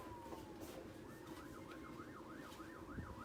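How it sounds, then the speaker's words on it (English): Police sirens wail outside, faint and distant, a rising and falling wavering tone that repeats steadily over low background noise. "Do you guys hear those sirens?"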